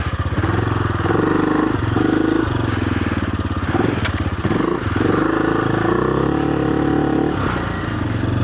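An AJP PR7 motorcycle pulls away in first gear on a track, the engine loud and near, revving up in repeated pulses with brief dips between them.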